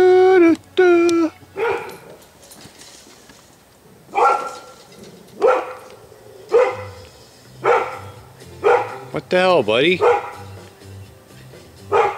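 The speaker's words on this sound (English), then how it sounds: "He barks at all the neighborhood dogs," A dog barks repeatedly outdoors near a home, about eight separate bark bursts spaced a second or so apart, loud and close, with someone talking between them and a brief whimpering yip near the end.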